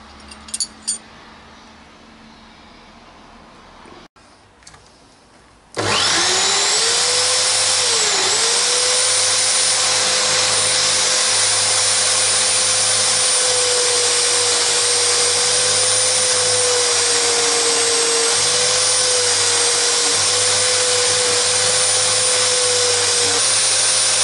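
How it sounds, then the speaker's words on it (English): A power wire brush stripping tough powder coat off a wood-burning stove part clamped in a vise, starting up after a few quiet clicks and then a loud, steady, close high-pitched whirring grind that continues without pause. "Over to the vise for a little bit of wire brushage, I think."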